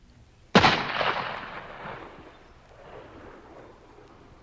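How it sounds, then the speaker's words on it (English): A single gunshot sound effect in a narrated Civil War story, a sudden heavy blast that rolls away into a long, fading rumble, loud and alone. "Carter Drews was calm as he pulled the trigger of his gun."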